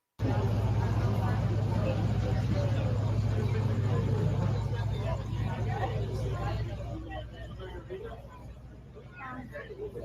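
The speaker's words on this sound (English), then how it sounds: "You just hear an engine." At a car show, an engine rumbles steadily at close range over background crowd chatter, then fades as the walker moves on.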